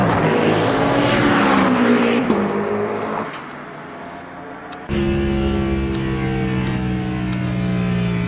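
A Cadillac endurance race car engine in the Le Mans Ultimate racing game drones loudly and steadily, dips as revs fall and shifts, then surges back into a sustained high-revving roar, close and alone without talk.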